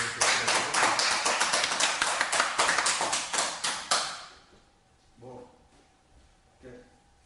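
Applause from a lecture audience closing a Monday talk series, dense and steady for about four seconds before cutting off, followed by faint scattered taps and a brief voice.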